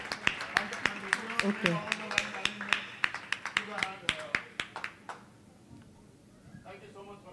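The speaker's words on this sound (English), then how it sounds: "big round of applause" Audience at a community summit event at a temple gives the kids a round of applause, a burst of sharp claps and scattered taps under a speaker's voice, thinning out toward the end.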